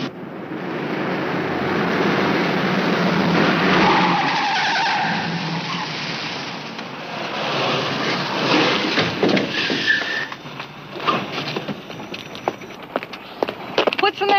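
A car comes down a highway and its tires skid and squeal as it brakes hard to a stop. The rush of the engine builds, then breaks into a long screech, with voices over it.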